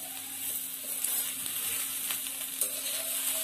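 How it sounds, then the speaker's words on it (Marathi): Onions sautéing in a pan for egg curry make a soft continuous sizzle over a low steady hum, with occasional light stirring taps. "आपले कांदे छान फ्राई झालेले आहेत"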